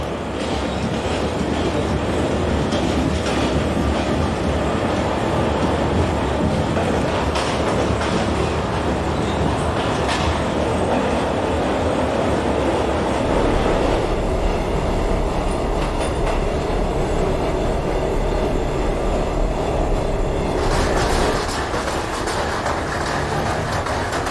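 An R32 New York City subway train runs steadily in the OpenBVE train simulator, with continuous loud rumbling, rhythmic wheel clatter and faint squeals, and no voices.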